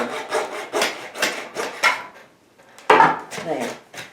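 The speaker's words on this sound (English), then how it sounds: "Cut just as close as you can to the ball itself, so it'll be as flat as possible." A tool cuts off a ball for a DIY Christmas topiary in a run of rhythmic back-and-forth sawing or rasping strokes, close and fairly loud, with a brief pause before a sharper final stroke.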